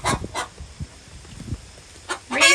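Backyard homestead chickens cluck and squawk in short, loud bursts separated by brief quiet gaps, ending in a longer harsh cry, all close by with no talking.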